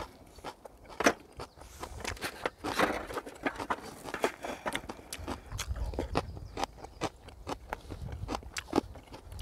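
Rural puppy eating food it should not, a near run of irregular wet crunches and bites with soft rustling in between, loud at moments, with no voice over it.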